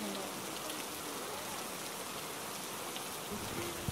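Steady rain falls as a dense, even hiss on a hill-station road trip, faint and continuous throughout with no voices.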